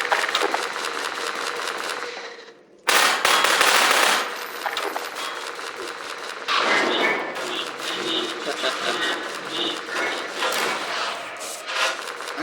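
Video game gunfire: dense, crackling bursts of rapid shots, loud and close, with a brief pause and then repeated volleys continuing to the end.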